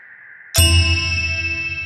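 A bright bell ding strikes sharply and rings out with a long, sustained metallic shimmer and deep hum as a round marker in a Wim Hof guided breathing session, heard alone without any talk.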